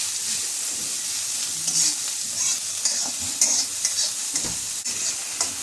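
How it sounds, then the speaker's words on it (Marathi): Onions sizzle and fry steadily in a pan while a spoon stirs them with soft scraping, a close, continuous hiss with no talking. "कांदा घातलेला आहे आणि हे फिरून घेते"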